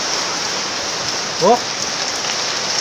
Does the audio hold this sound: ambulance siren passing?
no